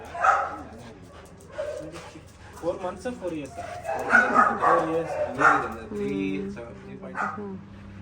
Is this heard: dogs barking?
yes